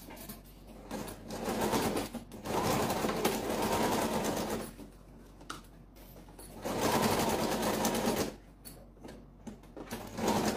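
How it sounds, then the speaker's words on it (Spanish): A sewing machine stitches a folding pencil case in several sustained runs of buzzing motor and needle rattle, separated by short pauses, heard up close. "vamos a coser esta otra parte"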